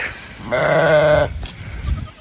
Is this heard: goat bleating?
yes